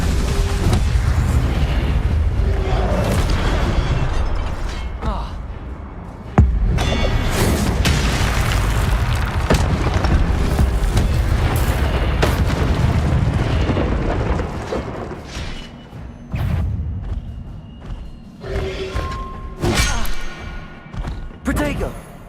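Incendio fire spell cast in Hogwarts Legacy, a dense run of booming, bursting blasts over heavy low rumble throughout, loud and close, with occasional sharper thuds amid the game's battle noise.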